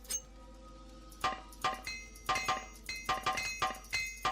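Metallic clinks and taps from repairing gear with blacksmith tongs in the video game Morrowind, a series of sharp ringing strikes in an uneven rhythm over a low steady hum, with no talking.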